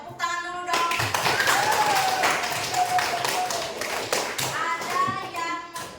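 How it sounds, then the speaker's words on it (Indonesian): A high-school class, grade XII-5, claps together in a classroom, a dense, steady patter of many hands lasting several seconds, with voices speaking at the start and end. "Oke, tepuk tangan dulu dong."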